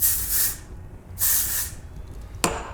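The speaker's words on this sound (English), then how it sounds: "So now I'm gonna spray again." Two long hissing bursts from an aerosol hairspray can, each about half a second, followed by a short sharp spritz; close and loud with no talking.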